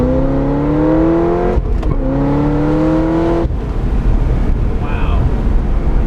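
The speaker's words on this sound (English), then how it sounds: "Backfire there." Loud in-cabin engine roar of a Corvette ZR1 accelerating hard through rising gears, with a sharp crack at a shift change and a rough rumble afterward.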